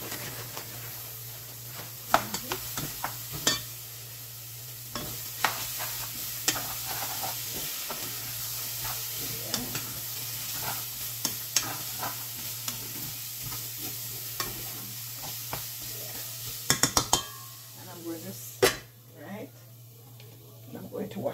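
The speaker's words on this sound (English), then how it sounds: "So next I'm going to put in some mixed veg." Mixed vegetables being stirred and fried in a pot for mint curry rice, a soft steady sizzle with scattered scraping clicks of a spoon, fairly faint, with talk nearby.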